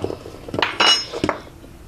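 A spoon clinks and scrapes against a bowl as cocoa is added to cake batter, several close, bright metallic taps in an irregular rhythm.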